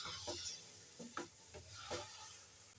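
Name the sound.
stirring food cooking in pan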